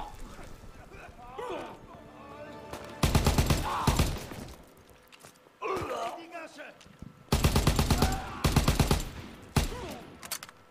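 Bursts of rapid gunfire from a World War II first-person shooter, Call of Duty WWII, loud and clustered in several volleys, with players talking and shouting between them.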